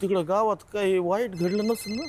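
An incoming-call ringtone on a phone in a Marathi TV serial scene chimes as short, bright repeating tones in the second half, sounding softly beneath a woman's louder speech.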